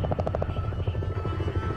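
Helicopter flying in the zombie video game Dead Rising 4, a steady close rotor thump with a rapid rhythmic chop under a constant engine drone, loud and continuous with no talk.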